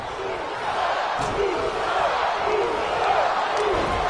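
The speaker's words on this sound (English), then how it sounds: "All the crowd are cheering, chanting for the Usos." A wrestling video game crowd cheering and chanting for a tag team, a dense, loud, steady roar with rising chant-like tones repeating through it, heard close and continuous.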